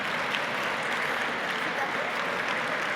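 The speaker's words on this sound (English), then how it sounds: "if we could get a round of applause for Attila and Helene." Audience applause at a corporate fireside chat event, a dense steady wash of clapping filling the room at an even level throughout, with no voices standing out.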